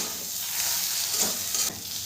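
Spiced potato filling for aloo paratha is stir-fried in a pan, giving a loud continuous hiss and sizzle with a faint scrape of stirring.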